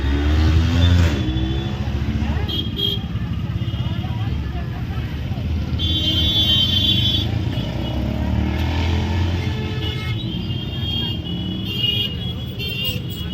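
Traffic jam along a pilgrimage procession route, with idling and revving cars and motorcycles, an occasional horn toot, and steady roadway rumble throughout, with people talking over the noise.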